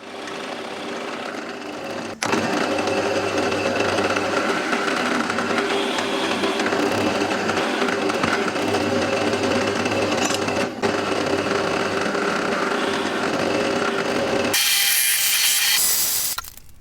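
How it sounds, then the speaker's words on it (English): A power drill whirs steadily and loudly for a long stretch, with a grinding, buzzing tone as it bores through wood, ending in a brighter rush. "drill a hole straight through"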